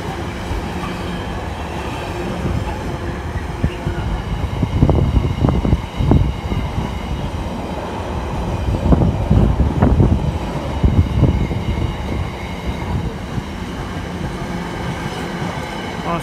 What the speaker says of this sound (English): Nice long freight train.